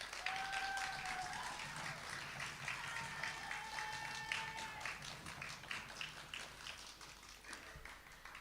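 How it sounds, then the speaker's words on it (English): Audience applause for storytellers at an evening storytelling showcase, a sustained wash of clapping from a seated crowd lasting throughout, with a few brief whistles or cheers early on and no talk over it. "A final round of applause for our storytellers."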